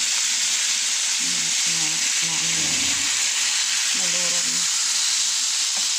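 Tuna steak frying in a pan with soy sauce, a steady bright sizzle running throughout with a voice speaking intermittently over it.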